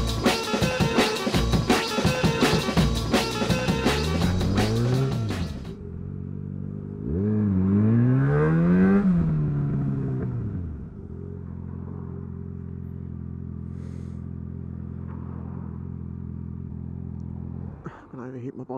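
A stationary motorcycle's engine revs up and down over a loud clattering start, then settles into a steady idle drone held at a road blockage, with a rising rev near the end.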